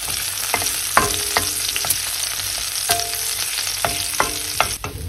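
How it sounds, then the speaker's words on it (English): Pancetta frying in olive oil over low heat, a steady close sizzle with repeated sharp spatters and stirring clicks, with no voices. "Now the pancetta is getting crispy."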